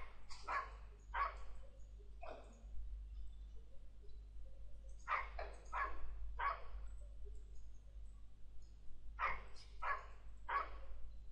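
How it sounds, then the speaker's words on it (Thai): A dog barks in three separate bursts of two or three sharp barks each, with pauses between them, over a low steady hum. No one speaks. "มูกอย่าเห่ากลับ"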